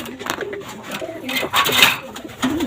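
A pair of teddy pigeons cooing in their loft, soft repeated coos at close range over a low background hiss, with no talking.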